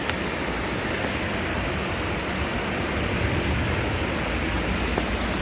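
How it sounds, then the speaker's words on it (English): Water pours steadily down a series of stepped waterfalls at a good pace before entering an underpass tunnel, a dense, continuous rushing wash heard up close with no talk. "You see the stepped waterfalls."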